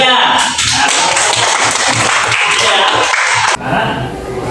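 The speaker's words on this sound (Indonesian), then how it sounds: "tepuk tangan buat Hafiz, Obed dan Arya." Classroom students clap their hands together in a dense, steady burst of applause lasting about three and a half seconds, loud and close, then fading as a teacher's voice talks.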